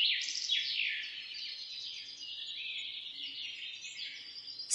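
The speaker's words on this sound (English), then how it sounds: "Cardinal." Cardinal singing: a string of clear, high whistled and chirping phrases repeating steadily at moderate loudness, alone without any talking.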